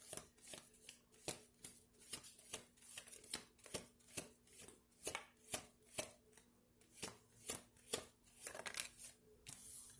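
Tarot cards being shuffled during a reading: a steady run of crisp, evenly spaced taps and flicks as the deck is worked over and over, quiet and close, with no talking.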